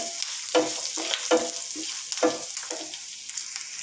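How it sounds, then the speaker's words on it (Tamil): Ginger and garlic fry in a pan for paneer masala, stirred in five or six distinct scraping strokes spaced about half a second apart over a steady, close sizzle, with no talking. "இஞ்சியும் பூண்டையும் போட்டதுக்கப்புறம் ஒரு ஃப்ரை பண்ணிவிடுவோம்"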